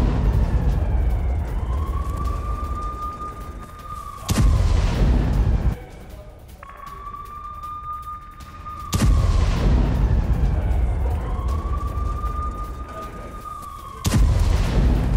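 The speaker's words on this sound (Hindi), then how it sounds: "ड्रोन से टैंक पर बॉम्ब गिराया गया" Repeated heavy explosive booms from drone-dropped bombs striking an Israeli Merkava tank cut through a steady whining tone and background rumble, three loud blasts spaced several seconds apart.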